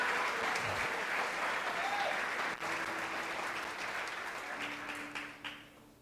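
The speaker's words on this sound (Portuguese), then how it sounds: "Dá um aplauso bem forte para Jesus aí." A church congregation applauds loudly and steadily in a dense, continuous wash of clapping that fades slightly toward the end.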